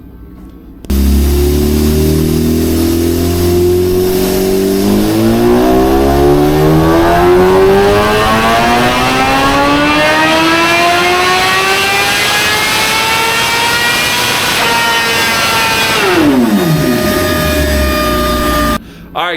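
A Suzuki Gixxer motorcycle on a dyno, running pump fuel, revs up from idle in one long, loud pull, its pitch climbing steadily for many seconds before the engine drops back off to idle.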